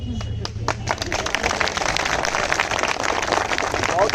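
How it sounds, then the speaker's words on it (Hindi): Thin, scattered applause from an audience at a public speech, with sparse claps merging into a light steady patter while a voice continues over it. "बहुत कमजोर ताली है ये।"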